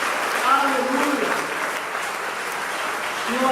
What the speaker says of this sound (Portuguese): Você pode aí aplaudir o Senhor por isso?